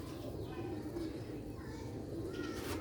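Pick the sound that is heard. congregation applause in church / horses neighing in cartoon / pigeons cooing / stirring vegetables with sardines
pigeons cooing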